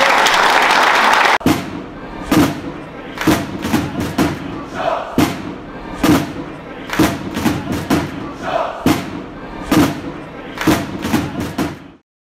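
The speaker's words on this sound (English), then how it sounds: "a round of applause" A football club fans forum audience claps after a speech, starting with a dense burst of applause, then breaking into loose, rhythmic thumping claps and stamps with occasional shouts, uneven and punchy.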